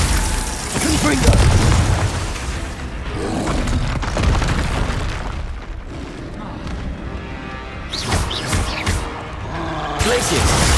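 Spell explosions crackle and boom in Hogwarts Legacy combat, a dense stream of loud blasts and bursts over game noise, with a voice calling out spell names throughout.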